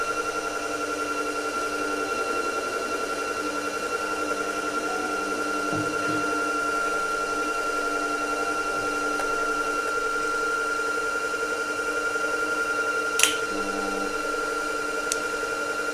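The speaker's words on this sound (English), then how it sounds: "start it back up and let it finish winding that bobbin" Bernette B79 sewing machine winding a bobbin, a steady, even hum with a constant pitch running throughout, with a brief click near the end and no talking.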